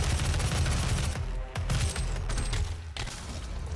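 Gunfire in the video game DOOM 4 against zombies: dense, loud rapid shots and booming bursts close up, with brief gaps and a short lull partway through.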